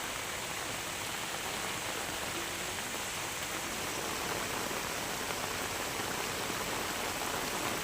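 Heavy monsoon rain falling over rural villages of Meghraj taluka in Aravalli district, Gujarat, a steady, even hiss of downpour that stays unbroken and moderately faint throughout.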